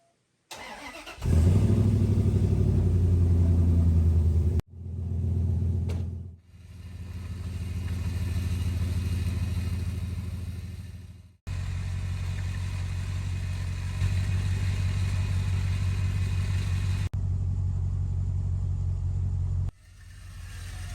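BadLands truck engine running rough and close to stalling, a loud steady low rumble that cuts out and restarts several times, with gaps of near silence between runs and no talk.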